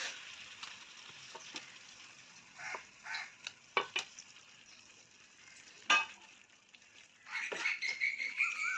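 Eggs are tossed into a pan of cooked-down tomato masala for an egg masala curry, giving a faint sizzle broken by scattered clinks and scrapes of stirring.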